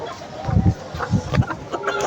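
Chickens clucking at close range on a home farm, several short bursts of hen calls in a loose rhythm over a quiet background.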